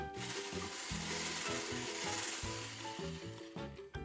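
A whisk works steadily through a mac and cheese sauce seasoned with salt, black pepper and nutmeg in an Instant Pot, making a close rhythmic scraping and swishing with a short pause near the end.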